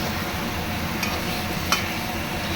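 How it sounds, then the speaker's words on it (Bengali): Mutton sizzles and gets stirred with spices in a pan, a steady soft frying hiss broken by a couple of brief scraping stir sounds. "মাটনটা একটু কষিয়ে নেব"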